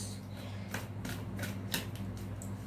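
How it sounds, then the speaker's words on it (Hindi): A deck of tarot cards is shuffled nearby, producing soft riffling flicks and light snaps in quick irregular bursts over a steady low hum. "I will shuffle again for you"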